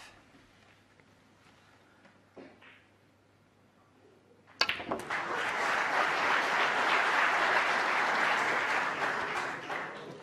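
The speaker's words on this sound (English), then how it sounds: "You can hear the encouragement that Ronnie's getting" After a few quiet seconds, a snooker crowd at the 2018 World Championship bursts into loud, sustained applause and clapping that continues steadily to the end.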